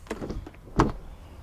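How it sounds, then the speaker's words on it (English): A Maserati Levante S car door opens with a soft click and a muffled thump, a few brief close clunks with no talk. "let's open the door here for you to show you the inside"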